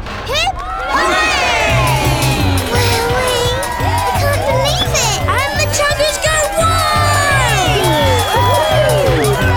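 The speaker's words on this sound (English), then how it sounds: "A big cheer for Koko! Hip, hip, hooray!" A cartoon crowd of young voices cheering and whooping for Koko, the little train, in a loud, continuous mass of overlapping shouts that lasts throughout.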